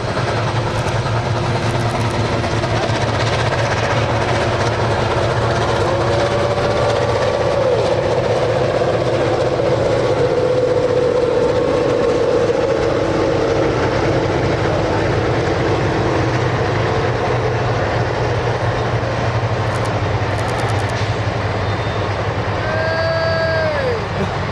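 Canadian Pacific 2816 steam locomotive hauling a passenger train on former KCS rails rumbles past continuously, with steady loud rolling noise and a few brief high whistle-like squeals.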